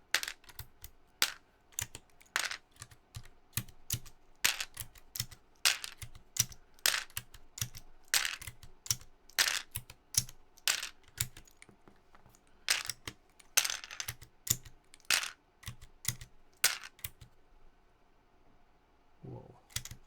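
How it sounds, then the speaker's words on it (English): Keycaps being pulled off a computer keyboard, a rapid irregular series of sharp plastic clicks and snaps, close and fairly loud, with brief pauses between bursts. "I guess I'm just taking the keycaps off first."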